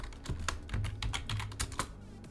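Quick, uneven clicks of typing on a computer keyboard, close and clear, with bursts of several keystrokes and brief pauses.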